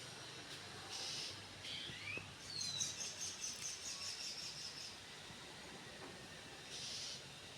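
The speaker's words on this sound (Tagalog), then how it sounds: "anong meron dito bakit ang iingay ng mga birds" Many birds call noisily around a school grounds: faint, high, repeated chirps and short whistles drift over a steady hiss, with no one talking.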